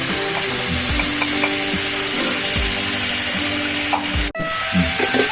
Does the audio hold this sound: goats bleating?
no